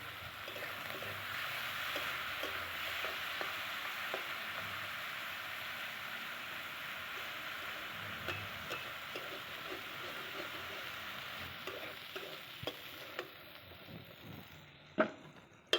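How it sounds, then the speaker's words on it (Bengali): Shrimp frying and stirred in oil, a soft continuous crackling hiss with scattered light pops and taps, fairly faint and close, ending in a sharper clack. "প্রথমে আমি চিংড়িটা তেলের ওপরে দিয়ে একটু নেড়ে নেব।"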